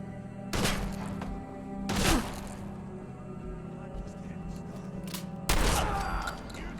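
Gunfire in the video game Fallout 4, including shotgun fire, comes as three loud, close bursts spaced a couple of seconds apart, each ringing out into a rumbling tail over steady game background noise.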